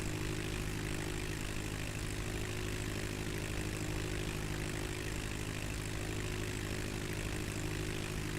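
Steady, continuous drone of a propeller airplane engine in a flight simulator game, flying from Michigan City Municipal to Meigs Field, loud and unbroken throughout with no talking.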